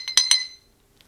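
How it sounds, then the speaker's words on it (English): A Waterford glass decanter stopper clinks against the glass, three quick bright ringing taps close up, fading over half a second, then a faint final tick. "Glass stopper."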